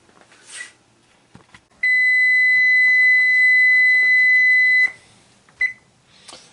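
A kitchen timer's shrill electronic alarm tone holds steady for about three seconds, then one short beep follows after a pause. Quiet background noise surrounds it.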